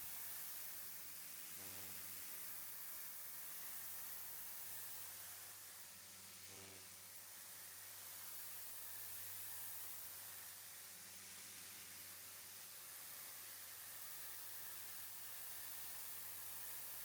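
A pressure washer hisses in a steady, broad spray against the moldy exterior of a house, a constant close wash of noise with a low machine hum underneath and no voices.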